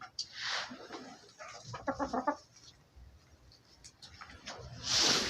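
Farmyard chickens, tame hens kept for collecting hatching eggs, give faint, scattered clucks and a short rapid run of calls, with a louder rustling burst near the end.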